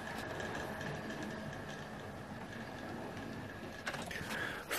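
A Hornby model train runs into the station over the points and a junction, a faint, steady mechanical hum and rumble with a few light clicks near the end.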